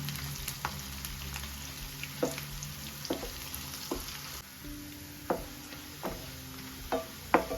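Onions fry in a pan for a mutton curry, a constant sizzle broken by repeated sharp scrapes and taps of a stirring spoon at a loose, irregular rhythm, no talk.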